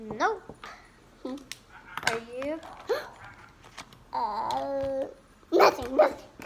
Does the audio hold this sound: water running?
no